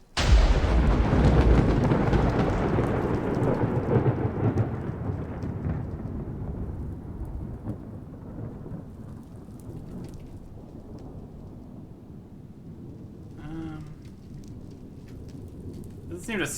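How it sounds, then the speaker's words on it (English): A video game thunderstorm spell cast in a Minecraft-style cave world: a loud rolling thunder rumble over steady rain, fading gradually into a lighter rain hiss, with a brief higher game sound near the end. "Thunderstorm."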